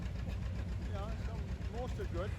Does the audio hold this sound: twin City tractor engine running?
yes